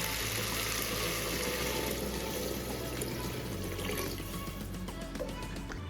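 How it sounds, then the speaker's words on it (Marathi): Water pours steadily into a pot of sautéed vegetables, spices and washed rice for a one-pot masala rice, a continuous close splashing rush that gradually thins toward the end. "आता टाकूया पाणी"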